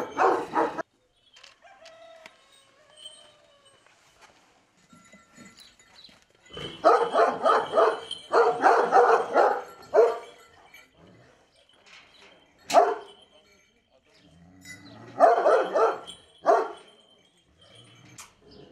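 Anatolian shepherd dogs barking in loud, close bursts on a farm, with a rooster crowing amid the barking and quieter stretches between volleys.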